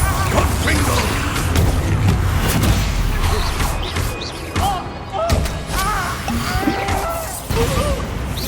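Blasting curse explosions from spell combat in Hogwarts Legacy, a dense barrage of loud crashing booms and impacts layered with shouted voices and chaotic battle noise throughout.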